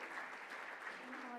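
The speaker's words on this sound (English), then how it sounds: "A big round of applause, ladies and gentlemen." Dense, steady applause from a gala dinner audience fills the room, continuous clapping at close range and fairly loud throughout.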